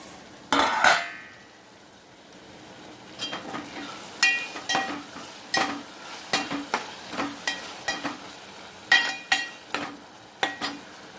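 Tomato pieces frying in a pan with a soft sizzle underneath, while a utensil scrapes and clinks against the metal in repeated stirring strokes, close and fairly loud, with no talking.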